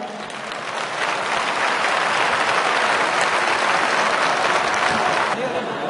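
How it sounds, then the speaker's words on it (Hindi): Sustained applause from a seated audience at a motivational poetry and speech event, loud and dense clapping filling the space continuously from start to finish. "जो लोग बैठे हैं और सुन रहे हैं उनकी तालियां ज्यादा चाहिए।"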